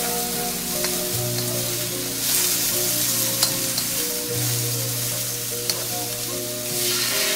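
Canned bamboo shoots stirred and heated in a pan with spices for ginataang hipon, a steady frying sizzle with scraping stir strokes and a low sustained hum beneath, no voices.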